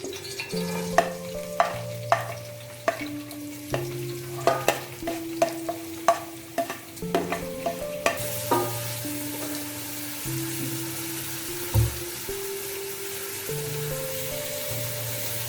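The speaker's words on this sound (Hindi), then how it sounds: "ये थोड़ा थोड़ा अभी फ्राई हो रहा है" Vegetables sizzling in four tablespoons of hot oil, stirred with a spoon that scrapes and clinks against the pan in irregular strokes, with a brighter hiss rising partway through.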